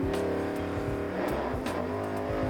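Drag racing cars, a Ford Falcon against a Chevrolet Camaro at a dragway, their engines loud and close, revving and rising in pitch in repeated surges with no talk.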